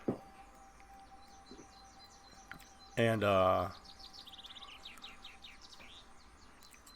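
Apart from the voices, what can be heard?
birds chirping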